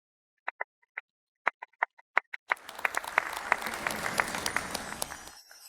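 A few scattered, separate claps ring out, then swell into full, dense applause from the audience for the newly elected chamber of commerce president, holding steady before cutting off.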